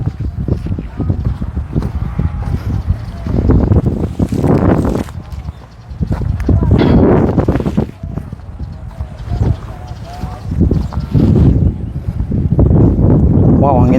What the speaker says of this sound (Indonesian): Wow, anginnya banyak